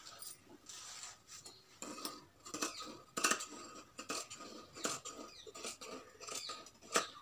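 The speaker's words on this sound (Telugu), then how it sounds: "దీన్ని ఇలా క్రాస్గా కట్ చేసేసుకొని" Scissors cut crosswise through Punjabi dress fabric with lining, giving a series of crisp, close snips and rustles with an irregular rhythm and no talking.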